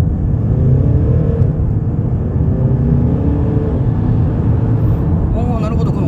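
A Mercedes-Benz GLB SUV accelerates at full throttle, a loud, steady engine and road roar from inside the cabin that builds continuously, with a few faint sounds near the end.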